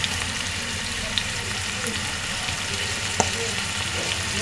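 Potatoes and fish roe fry in a pan with chopped green chili and ginger-garlic paste, giving a steady, dense sizzle that runs throughout with a few small pops.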